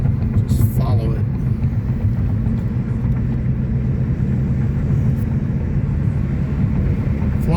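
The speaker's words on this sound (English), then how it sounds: "We got a military helicopter here coming across." A military helicopter flying low and circling overhead, a steady loud rotor and engine rumble filling the whole stretch with little change in level, with people talking over it.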